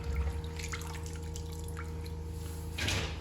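Washed potatoes are tipped into a kitchen strainer, and the rinse water trickles and drips through it continuously, ending in a louder splash near the end, with a steady background hum underneath.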